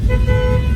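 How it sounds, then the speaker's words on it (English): A single loud, steady blare from the horn of a 1969 Chevrolet Camaro, held close up for under a second with a low engine rumble beneath. "Horn works."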